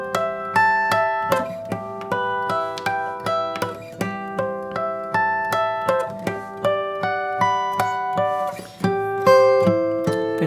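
A solo guitar arrangement of a song intro, played with a thumb pick and index finger, rings out as a steady stream of plucked notes and chords, ending in a short run, with no voices.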